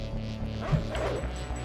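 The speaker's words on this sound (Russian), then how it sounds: "тут же 2 псины" Dogs bark in the pixel-art action game Huntdown, a couple of short close yips and barks over game music and effects.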